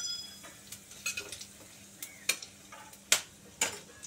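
Panch phoron and asafoetida tossed into hot oil give faint, scattered crackles and pops with a soft sizzle beneath, mostly alone and quiet.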